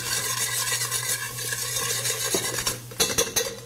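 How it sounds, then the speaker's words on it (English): Chili powder, cumin and paprika stirred in a hot pan, a close scraping of utensil against metal over a steady sizzle, with a few sharper clinks near the end. "I'm going to stir that around for a couple seconds"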